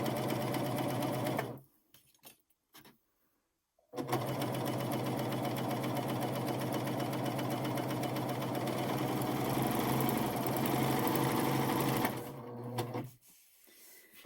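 A Pfaff Admire Air 7000 sewing machine with a blind hem and lace foot stitches a lace hem, giving a rapid, close mechanical whir. It runs, stops for about two seconds, then runs steadily again and winds down.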